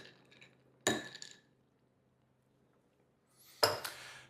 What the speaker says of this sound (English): give it a nice good stir before serving